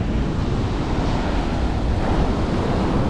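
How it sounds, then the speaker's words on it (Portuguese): Waves surge continuously where the sea meets a river on a beach near a lagoon, a steady loud roar of surf mixed with wind buffeting the microphone, with no voices. "O encontro do mar com o rio."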